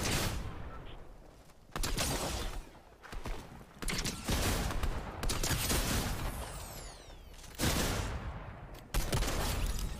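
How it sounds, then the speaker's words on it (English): Fortnite gunfire comes in bursts of rapid shots with short gaps between volleys, sharp and moderately loud against quiet game background, with no talk over it. "Someone is shooting at me."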